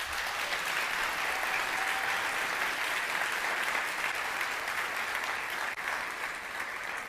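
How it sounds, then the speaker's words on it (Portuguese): Steady audience applause from a seated crowd at a talk, a continuous even wash of clapping at moderate distance with no clear voices over it. "Uma salva de palmas para a Natália."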